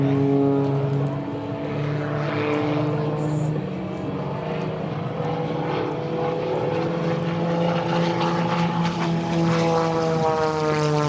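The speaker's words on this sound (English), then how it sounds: "So now we got Kevin Coleman out here spinning her around." A propeller aerobatic airplane spins through maneuvers at an airshow, its engine droning loud and steady with shifting pitch as it swings around overhead, alone without talk.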